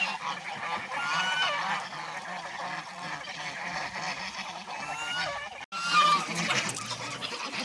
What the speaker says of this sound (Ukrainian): Дуже люблю, коли гуси так гуляють, купаються.